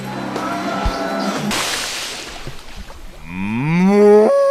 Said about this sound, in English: Workers lining the parlor near the entry point prep the cows after they hop aboard.